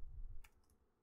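A few quiet clicks of typing on a computer keyboard, a brief cluster of keystrokes in the middle of a faint, short moment.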